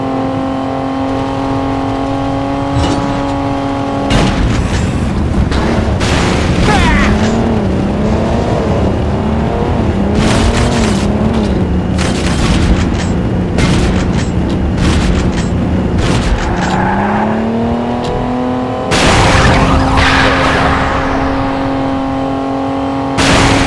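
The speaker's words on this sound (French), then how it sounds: "j'ai cogné une bagnole." Engine drone and revving from a car in the video game Pursuit Force, steady tones bending with speed, broken by several loud bursts and impacts of a crash, one heavy hit near the end.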